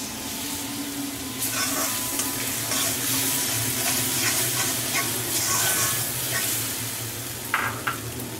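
A tomato goes into a hot pan for a Bengali parshe fish curry, frying with a steady, close sizzle and occasional stirring scrapes throughout, with no one talking.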